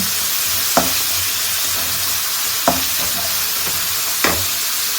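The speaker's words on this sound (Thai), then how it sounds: "เราเอาเนื้อลงก่อนอันนี้เป็นเนื้อสัตว์นะคะ" Meat for mushroom kaprao stir-fries in a hot pan with a steady, bright sizzle, and three sharp scrapes of a spatula land at uneven intervals, close and clear, with no voices.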